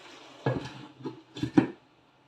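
A cooking pot of Kerala-style country chicken curry is covered with its lid, giving a few close metallic clatters and knocks, with one sharp clink of lid on pot near the end.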